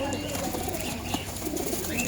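Salar pigeons cooing softly among other birds, a low, faint murmur of repeated coos beneath steady background noise.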